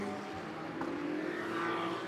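Ferrari 488 Challenge race cars on a formation lap at Mugello make a faint, distant engine drone with a slight rise in pitch, heard alone for about two seconds.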